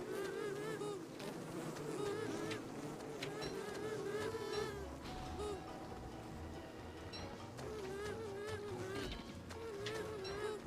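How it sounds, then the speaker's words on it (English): Bees buzzing in the Elden Ring video game, a steady insect drone running throughout beneath game music and effects, with faint talk at times. "The bees are getting in the way too."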